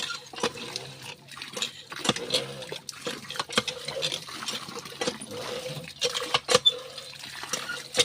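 Water runs and splashes intermittently from a tap as hands and feet are washed outdoors, uneven trickling and pouring close by, with a few faint voices in the background.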